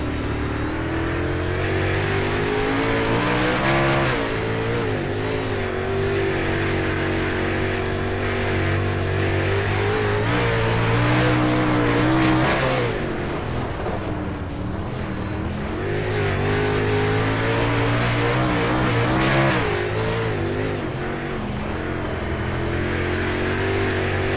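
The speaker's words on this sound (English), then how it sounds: "as we're getting ready to go racing in this Coot's Home Comfort Super Late Model Series" Super Late Model race cars in a warm-up session roar steadily for the whole stretch, loud and close, with engine pitch rising and falling as cars circulate and pass, no voices over them.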